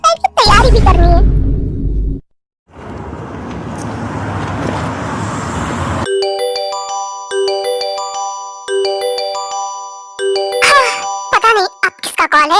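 A mobile phone rings with an incoming call, its repeating electronic melody pulsing in short bursts after a stretch of road noise, with voices speaking before and after the ring.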